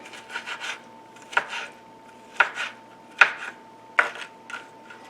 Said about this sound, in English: I'm going to go ahead and chop this up. I'm looking for a tablespoon of this chopped ginger.